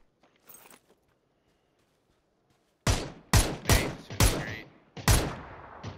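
Video game gunfire rings out in a quick burst of about six loud, sharp shots in rapid succession after a mostly quiet stretch with a faint brief rustle.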